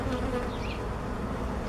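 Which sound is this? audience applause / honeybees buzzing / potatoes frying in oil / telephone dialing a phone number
honeybees buzzing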